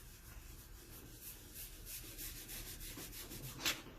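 Paste rubbed onto a wooden house cut-out, a faint, steady soft rubbing and scrubbing close by, with a small knock near the end and no talking.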